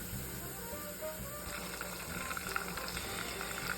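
Onions and sausages fry in a pan at a Thanksgiving cookout, giving a steady, fairly close crackling sizzle that thickens slightly toward the end.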